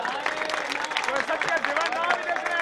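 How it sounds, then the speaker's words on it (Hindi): Audience clapping for a team at a Punjabi-language gathering, steady dense applause with crowd babble mixed in throughout. "मेरी टीम वास्ते बहुत सारी तालियां होनी चाहिए"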